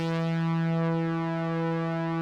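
A sustained synthesizer note shaped for ambient music with a lengthened release, ringing as a steady, bright harmonic tone at an even, fairly loud level across the whole stretch, with no speech over it.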